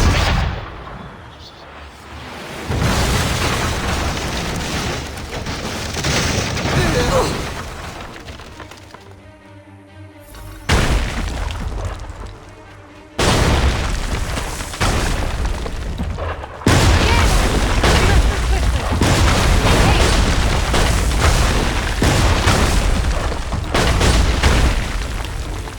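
Cannon fire in Assassin's Creed III Remastered: a series of loud, heavy booming blasts rolls one after another, with rumbling tails and brief gaps between volleys.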